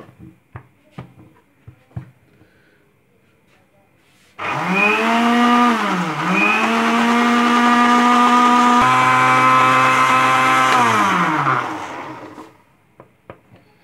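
An electric grinder whirs loudly for about eight seconds as it grinds spices for palak gosht, its pitch dipping briefly under load, with a few sharp clicks and taps before and after.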